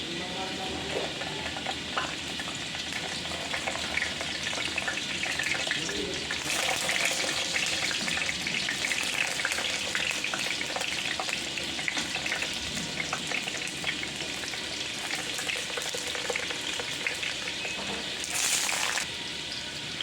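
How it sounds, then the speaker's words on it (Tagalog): Steady, dense sizzling of eggplant frying in hot oil, continuous and close, with occasional brief louder crackles and faint clatter. "Prito din tayo ng talong dito sa kabila naman."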